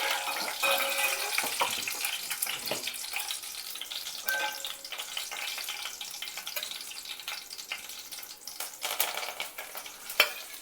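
Tempering seeds crackle and sizzle in hot oil for brinjal curry, a steady close frying hiss with small pops and spatters, one sharper pop near the end.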